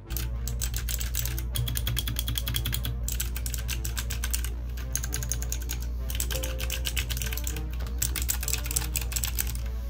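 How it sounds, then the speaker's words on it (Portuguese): Rapid typing on an EYOOSO Z11 compact mechanical keyboard, a dense stream of crisp clicky keystrokes with brief pauses, close and steady over a low background hum. "dá uma escutada no barulho dele ao digitar"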